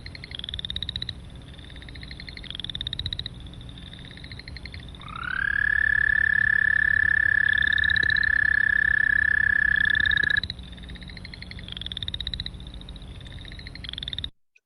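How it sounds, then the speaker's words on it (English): An American toad gives one long, loud, monotone trill lasting several seconds, standing out over a background chorus of other frogs calling in short repeated bursts. "That's our American toad."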